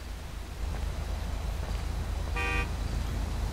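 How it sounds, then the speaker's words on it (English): A car horn gives one short toot over a low, steady idling vehicle rumble and light rustling, with no voices. "Stop honking your horn."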